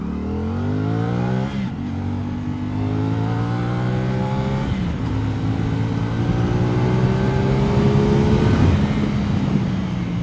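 A CFMoto SR-S 450 motorcycle accelerates hard at speed, its engine note climbing steadily through the gears with brief dips at each shift, loud and continuous throughout.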